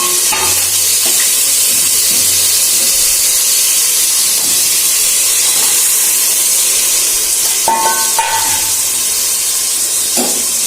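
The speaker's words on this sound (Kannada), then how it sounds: "ಈಗ ನಾನು ಹೆಚ್ಚಿಟ್ಟಿರುವ ತರಕಾರಿಗಳನ್ನ ಹಾಕೊಳ್ತಾ ಇದ್ದೀನಿ." Chopped vegetables tipped into hot oil for a vegetable pulao, giving a steady loud hiss and sizzle throughout with a few brief clinks and stirring scrapes, no talking.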